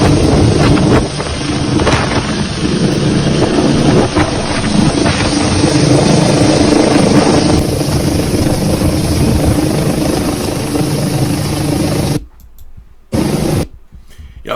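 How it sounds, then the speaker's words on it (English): Military helicopters flying over Washington, D.C., a loud, continuous rotor thrum with heavy wind buffeting on the microphone, holding steady for most of the stretch before briefly cutting out near the end. "Military helicopters fly over D.C. as protests continue across the United States."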